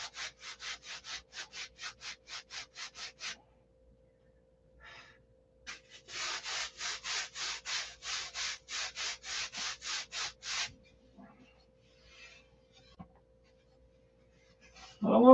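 Wooden pieces are sanded by hand in quick, rhythmic back-and-forth rubbing strokes, a fast run of about a dozen, then a pause with faint shuffling, then a second steady run, close and fairly quiet.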